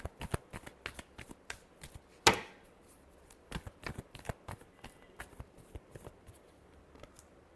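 Tarot cards being shuffled by hand close up, a quiet run of crisp riffling flicks and soft taps in an irregular rhythm, with one sharper slap partway through and no speech.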